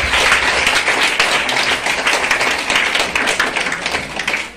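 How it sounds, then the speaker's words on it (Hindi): An audience bursts into loud, sustained clapping at a health-product testimony gathering, a dense steady wash of many hands close by, with no talking over it. "एक बार जोरदार ताली बजा दीजिए।"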